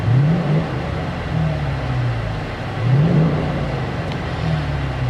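A 2016 Dodge Challenger R/T with the 5.7 engine on its stock exhaust, heard from inside the cabin as a steady idle hum with a blower running, broken by two short revs that rise and fall.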